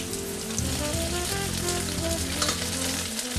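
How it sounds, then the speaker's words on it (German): Potatoes and porcini mushrooms frying in a pan, a dense close sizzle with faint stirring and crackle, steady and alone without talk. "So, jetzt kommen die Pilze rein."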